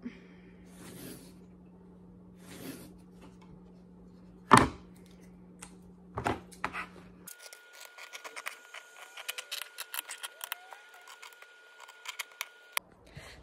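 Scissors snip through fabric in a quiet room, a few separate cuts early on, then a quick run of small crisp snips and clicks close by.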